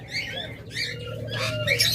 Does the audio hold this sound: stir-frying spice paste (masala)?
no